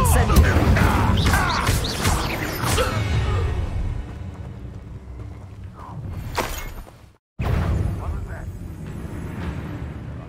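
Fire spell cast in Hogwarts Legacy, a loud burst of whooshing, crackling flame early on with further spell impacts and game effects dense throughout, a brief dropout near the end, with speech over the top.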